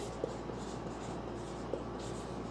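A pencil writes on paper during a physics lesson, giving faint, steady scratching strokes with a couple of soft taps against a quiet background hum.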